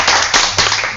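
Brief burst of audience clapping at a WordPress meetup, a short loud patter of hands with a couple of accented surges across one second, heard alone without talk.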